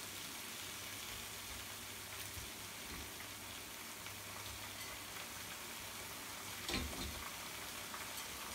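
Battered cauliflower Manchurian pieces fry in hot oil as a batch, giving a steady, even sizzle with a soft crackle throughout and a brief louder burst near the end, no voices over it.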